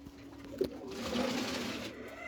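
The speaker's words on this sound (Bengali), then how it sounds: "আপনারা তিন পেয়ার কবুতর দেখছেন" Pigeons in a collector's loft, a soft, low coo rising and falling close by, with a brief knock and faint background rustle.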